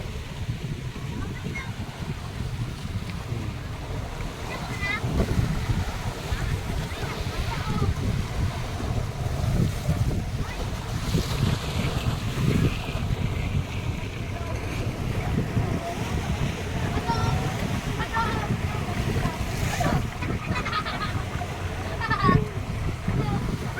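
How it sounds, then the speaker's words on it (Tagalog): Strong sea waves surge and wash steadily amid wind and the rumble of a boat on open water during a fluvial parade, with a voice talking at intervals over it. "Ayan, ang lakas ng alon mga kawiks."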